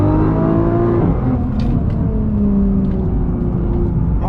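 A Nissan R35 GT-R drives and accelerates, its engine note rising in pitch, dropping at a shift, then climbing again, a steady loud drone heard from inside the car with no talk.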